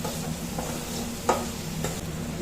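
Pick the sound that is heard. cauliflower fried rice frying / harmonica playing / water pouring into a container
cauliflower fried rice frying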